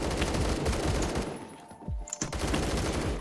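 Rapid automatic AK-12 rifle fire in the online shooter Phantom Forces comes in loud, dense bursts, broken by a brief pause and a few separate shots before the firing resumes.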